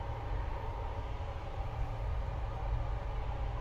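Ballia-Sealdah Express, an ICF coach train running at about 60-65 km/h, gives a continuous deep rumble with steady rolling noise heard from inside the carriage, with no distinct clicks.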